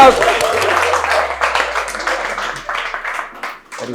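Audience applause and clapping at an institute event in Barnala, Punjab, continuing under a loud voice speaking over it and tapering off toward the end.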